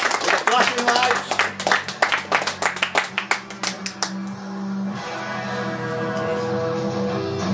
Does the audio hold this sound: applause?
yes